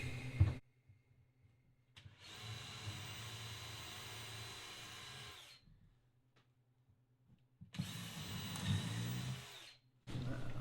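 A power drill countersinks a hole during interior trim work on a truck camper, heard as two separate whirring bursts of a few seconds each, separated by quiet gaps, with a short start at the very end.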